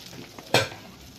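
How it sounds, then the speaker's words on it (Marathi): Potatoes fry with garlic in a pan as a utensil stirs them, a low steady sizzle broken by one sharp scraping clatter, close and brief. "या आलूंना छान असं परतून घ्यायचं आहे"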